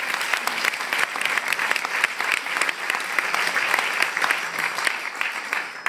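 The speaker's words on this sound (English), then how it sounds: "Another round of applause." A small live audience applauding a singer after an acoustic ukulele cover of a song, brisk, close claps packed into a continuous patter that holds steady for several seconds.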